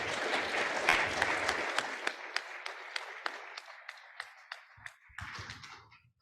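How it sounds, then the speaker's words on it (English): A room full of attendees at a federal IT modernization summit applauds the panelists, loud dense clapping at first that thins over several seconds into scattered individual claps before stopping. "please give our panelists a round of applause."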